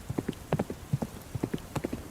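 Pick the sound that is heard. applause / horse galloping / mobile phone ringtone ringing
horse galloping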